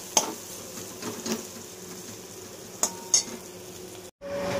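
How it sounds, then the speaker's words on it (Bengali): Spoon stirring and clinking against a bowl while spice paste with turmeric, chilli powder, a little sugar and cumin powder is mixed, a few soft scrapes and sharp clinks, fairly quiet, no voices. "এই যে মশলাটা গুলে নিচ্ছি"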